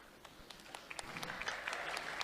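A small group claps; the scattered claps build into a light patter, fairly quiet and close.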